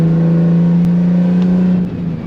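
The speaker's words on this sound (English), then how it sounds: "Even when I would barely go into booths just to hear the turbos pull up, he would geek out." Turbocharged Nissan 350Z pulling hard under acceleration, a loud steady engine drone with turbo whir held throughout, close and continuous with no talking.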